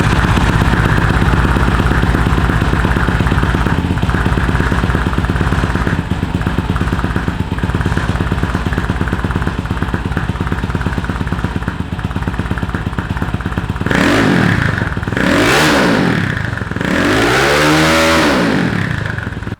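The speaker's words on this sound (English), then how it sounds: "Let's fire it up, see what type of sound we're getting from this system at idle, and then we'll throw out some revs" A 1974 Honda CT70 motorcycle with an aftermarket exhaust idles with a loud, steady rapid putter, then revs up in three sharp rising-and-falling bursts near the end, close and alone.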